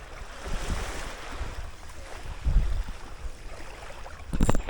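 Wind gusts across a fishing spot at the Jamaican seashore, with surf churning behind it. The roar is loud and rumbling and swells in bursts, with microphone buffeting and no voices.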